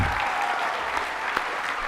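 Steady, dense applause from a ballroom audience at a 2021 high school Year 12 presentation night as the graduating class exits, continuous and even throughout with no speech over it.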